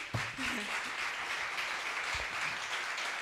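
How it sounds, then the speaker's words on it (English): Audience applause for the jury at a health and safety hackathon, a dense, even wash of clapping that holds steady from start to finish at moderate loudness. "big applause for their time and devotion."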